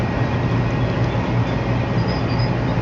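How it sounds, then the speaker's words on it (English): Train rumbling steadily past a house near Union Pacific tracks, a continuous loud low roar with no break and no voices. "It's the trains."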